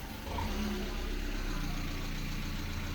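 A 2002 Hyundai Atos GLS with a manual gearbox idles smoothly, its low engine hum steady and even at close range, with a person talking over it.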